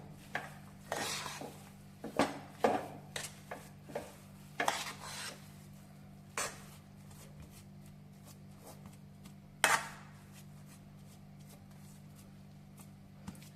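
Rava halwa with almonds and cashews stirred in a pan, a series of soft scraping and tapping strokes from a spoon, close and quiet, bunched in the first half then thinning out, with a low steady hum underneath.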